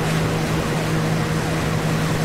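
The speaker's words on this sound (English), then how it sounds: "We've got a slower motorboat or speedboat." Motorboat engine in the video game Tanoa Life, a constant loud droning hum with a steady low tone and water rush throughout.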